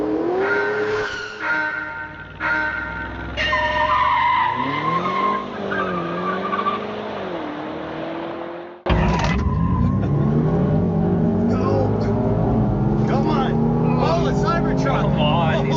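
Tesla Cybertruck electric pickup launching and accelerating hard in a race, with loud tire squeal and a rising whine, then a sudden louder burst of road and engine roar, under game sound and no clear talk.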